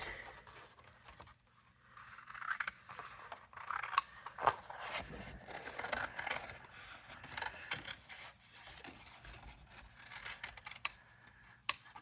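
Scissors cutting around a stamped mermaid image on paper, close crisp snips and scraping paper rustle in irregular bursts, with no talking.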